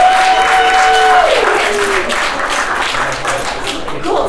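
A comedy club audience claps in a steady burst of applause, fairly loud and close, with crowd murmur and a brief tone under it.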